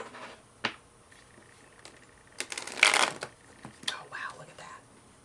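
Tarot cards are shuffled close by in a few soft riffles and taps, with a denser burst of card flutter near the middle. Faint whispery sounds come between the shuffles.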